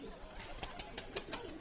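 A young pigeon near its coop, with several soft, brief bursts of cooing or wing flutter spaced about a fifth of a second apart over a quiet outdoor background.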